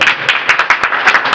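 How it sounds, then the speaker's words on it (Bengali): A crowd claps at an outdoor political rally in Naogaon, Bangladesh, with uneven bursts of hand claps forming ragged, fairly loud applause that rises and falls throughout. "তার জন্য একটা করতালি হোক"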